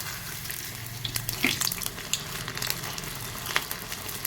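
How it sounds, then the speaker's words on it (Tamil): Rice poori deep-frying in hot oil gives a steady, busy sizzle with scattered crackles and pops throughout. "நல்லா இந்த மாதிரி பொரிஞ்சு ஓசை அடங்கினோன்னா நம்ம நெக்ஸ்ட் சைடு திருப்பி போட்டுக்கலாம்"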